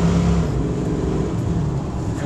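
A 1976 Ford Bronco's 302 V8 drones steadily from inside the cabin while driving, its low engine note shifting through a downshift, with no talk over it.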